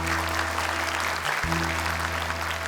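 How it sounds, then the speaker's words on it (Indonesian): Applause for the final contestant of a televised Islamic children's prayer-demonstration competition, a steady wash of clapping throughout with a brief dip midway and low hum beneath. "Boleh tepuk tangan sekali lagi untuk Afiko Malina"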